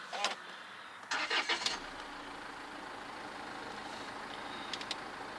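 A Land Rover Freelander 2 fires up via keyless start: a couple of brief clicks, then a short burst of cranking that catches and settles into a steady, quiet idle hum, with no talking.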